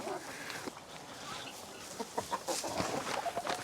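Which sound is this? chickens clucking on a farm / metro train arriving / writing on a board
chickens clucking on a farm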